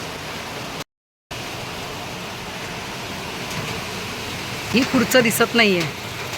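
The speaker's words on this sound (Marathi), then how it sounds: "तुम्हाला आवाज येत असेल पावसाचा" Heavy rain pours in a constant broadband roar. A brief dropout comes near the start, and a person speaks over the downpour near the end.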